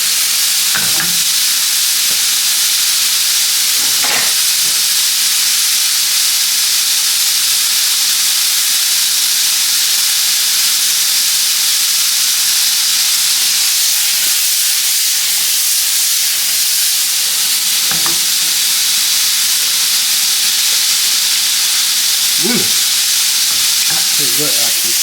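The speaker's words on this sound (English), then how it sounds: "Add a little bit of lemon juice to it. Saute them up here just like that bad boy." Food sautéing in a pan with a splash of lemon juice, a steady, loud sizzle and hiss that carries on without a break, with occasional stirring scrapes and clinks rising over it.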